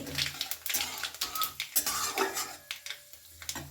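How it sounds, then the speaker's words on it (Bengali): Two dried red chillies and a spoonful of nigella seeds sizzle in hot oil in a pan for a fish curry, the hiss broken by frequent clinks and scrapes of a utensil against the pan, close and busy. "তেলের মধ্যে দিয়ে দিলাম দুটো শুকনো লঙ্কা আর দিচ্ছি এক চামচ মতো কালো জিরে"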